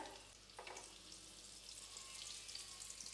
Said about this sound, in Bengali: লো ফ্লেমে ভাজা হবে।